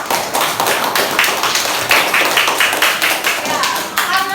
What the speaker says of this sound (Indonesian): Kita tepuk tangan dulu untuk semua kelompok